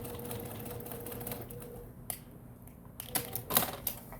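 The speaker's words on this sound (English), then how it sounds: "sewing the lining on, top stitching with everything going toward the outer fabric" A sewing machine top-stitching a bag lining, with a hum at first, then a pause and a few short, sharp mechanical clicks and bursts near the end.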